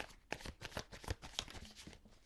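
Tarot cards are shuffled by hand in a few quick riffling, papery bursts, close and fairly soft, with no talking.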